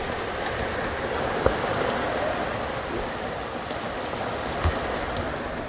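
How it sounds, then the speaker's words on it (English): Heavy rain pours steadily onto a sailboat moored off Carriacou during a squall, a dense, even hiss of drops drumming on deck and canvas, with a couple of brief louder drips landing close by. "More rainy day weather."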